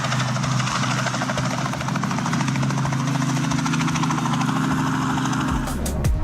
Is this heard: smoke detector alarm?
no